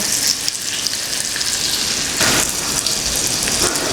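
Barramundi fillets frying in oil and butter in a pan, giving a steady, close hiss and crackle that fills the whole stretch, with a brief surge midway.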